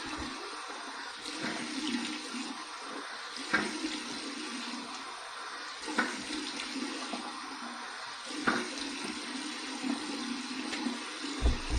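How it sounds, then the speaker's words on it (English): Running water from a tap splashes into a sink for a cold rinse after shaving, a continuous close hiss broken by several sharper splashes and drips, with no talking. "All right, cold water rinse."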